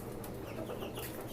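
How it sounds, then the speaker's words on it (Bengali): A white tiger-breed rooster and hens on a poultry farm cluck and murmur close by in a short, uneven run of soft calls, with no one speaking. "এই হচ্ছে সাদা টাইগার মোরগ, এটা আমার নেক্সট ব্রিডার"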